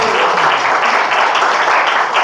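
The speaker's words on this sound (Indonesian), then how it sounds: "Tepuk tangan dulu." Applause from a church congregation at a Sunday service, a steady broadband patter of many hands clapping throughout with no talk over it.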